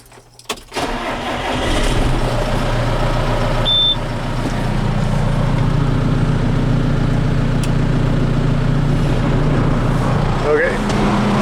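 A Howard rotovator engine starts up and settles into a loud, steady running drone that carries on close by for the rest of the stretch, with a few brief knocks near the start.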